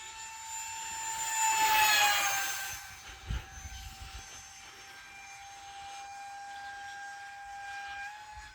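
A Rabid Models F104 electric ducted-fan model jet streaks past in a high-speed pass, a thin whining whistle swelling to a peak and falling away, then continuing faintly at a distance outdoors.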